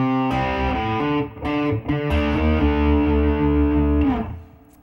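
Distorted electric guitar chords played with hybrid picking, sustained and ringing with brief gaps between strums, loud and close with effects processing, no talking.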